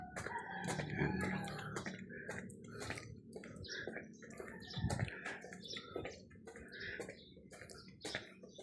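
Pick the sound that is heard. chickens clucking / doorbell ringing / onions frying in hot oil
chickens clucking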